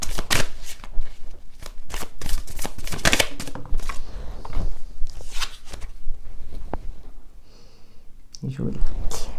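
A deck of oracle cards is shuffled by hand, close up: rapid, repeated riffling and slapping bursts in quick rhythm, pausing briefly before a final flurry.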